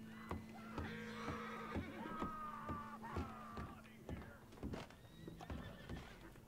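A horse in the video game Red Dead Redemption 2 whinnies with several loud, rising neighs over a run of clip-clopping hooves, close by and without speech.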